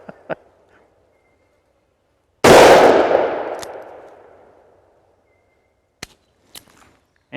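A single loud gunshot from a Taurus Model 605 revolver, a sharp blast with a ringing decay lasting about two seconds, set among faint clicks and handling noises.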